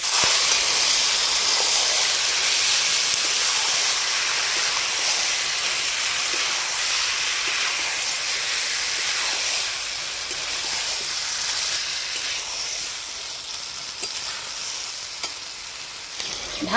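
Marinated chicken pieces, with chopped tomato and chilli powder, hit a hot pan of butter and sizzle loudly and steadily, a dense hiss that eases slightly partway through, heard close up with no talking.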